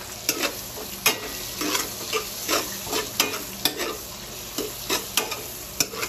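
Tomatoes frying in a large amount of cooking oil for a coconut-milk tuna dish, a soft steady sizzle punctuated by regular sharp spatula scrapes and stirs, close but fairly quiet, with no voices.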